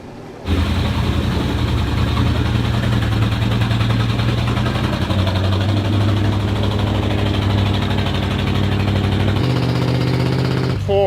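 An engine runs on a boaterhome, starting abruptly and holding a loud, rough, rumbling drone with a throbbing low pulse that shifts slightly in pitch partway through, then cuts off at the end.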